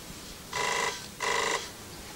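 Telephone ringing in two evenly spaced bursts of bright electronic trilling, moderately loud over a quiet room background, with no talking.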